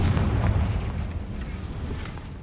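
A heavy explosive blast from the Confringo spell in the game Hogwarts Legacy opens loud and booming, then rolls off into a sustained low rumble with faint crackles.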